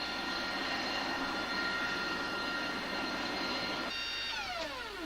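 The engines of a Hercules cargo plane on a busy military airbase drone steadily and loudly, a dense, even roar with a rising whine near the end and no one talking.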